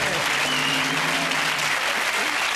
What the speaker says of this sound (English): They're all clapping wildly out of sheer relief.